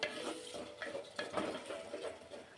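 Tomato puree for a traditional crab curry is stirred in a clay pot, with soft wet scraping strokes and faint clinks of the spoon repeating at a gentle, uneven pace over a quiet background.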